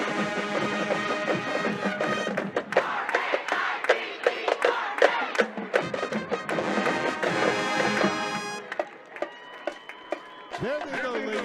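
A stadium crowd roars and cheers for the WGH Raiders high school football team at a game against Canton McKinley, with a marching band playing loudly, drum hits punctuating the noise and a voice speaking over the din.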